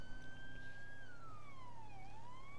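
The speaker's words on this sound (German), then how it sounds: "Vor allem diese Sirene, schon geil." Police siren in the Grand Theft Auto V video game, a single continuous wail that holds steady, dips and then rises again, fairly faint over a low background hum.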